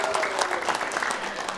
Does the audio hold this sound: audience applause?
yes